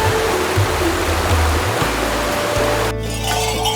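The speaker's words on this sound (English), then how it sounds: "Khumbu greeted me with sounds of the torrent of Milk-Koshi River" The Milk-Koshi River in the Khumbu region of Nepal rushes in a loud, continuous roar of churning whitewater, steady throughout with only a slight shift in tone near the end.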